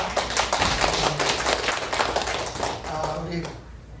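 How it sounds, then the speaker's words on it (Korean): A church congregation applauds during a Sunday worship service, a burst of clapping that fades out over a few seconds amid some voices. "다시 한번 박수하겠습니다"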